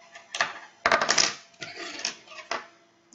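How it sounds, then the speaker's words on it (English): Metal scissors dropped onto a hard surface while a nail wrap is being applied, giving a few sharp clattering clicks and knocks over about three seconds, close and fairly loud. "As I drop my scissors."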